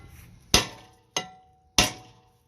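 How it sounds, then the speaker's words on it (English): A small sledgehammer strikes a seized rear brake rotor on a 2017 Lincoln MKC. Three sharp, close metallic whacks ring out about half a second apart, each one fading quickly. "take your little sledge, give it a nice whack."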